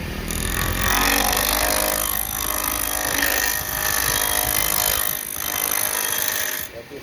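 A wood lathe running at full speed while a heavy rounded skew chisel cuts a red cedar duck call blank, giving a loud continuous motor whir with rough, rhythmic scraping and chattering cuts, then easing off at the end.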